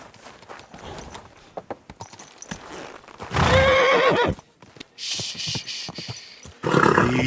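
Horse in Kingdom Come Deliverance 2 whinnying loudly in a harmonic, wavering call mid-clip, with another whinny near the end, over earlier clopping hooves and scattered thuds.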